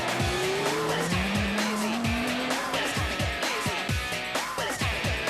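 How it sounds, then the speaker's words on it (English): Race cars take a bend with roaring engines and sharp tire squeal, then skid as they spin out after contact, loud and continuous. "One dives up the inside, but contact is made, and they both go spinning out."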